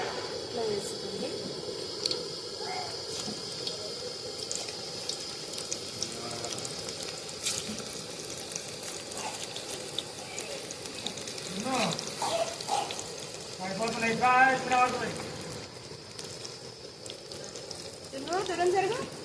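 Palak pakoda batter dropped bit by bit into hot oil gives a soft, continuous sizzle with faint bubbling, fairly quiet, broken by a few clinks and light kitchen noises.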